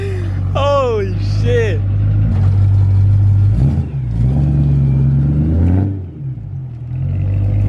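A BMW E92 M3 with a modified exhaust idles with a deep, loud burble and then revs, the engine swelling and dropping while people talk over it.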